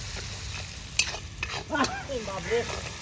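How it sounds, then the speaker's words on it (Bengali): Steady sizzling of onions frying in hot oil, with occasional stirring scrapes and clinks close by. "একদম মাছ ভাজা তেলে রান্না হচ্ছে তো"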